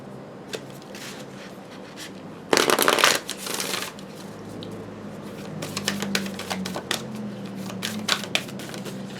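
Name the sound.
shuffling and pulling tarot cards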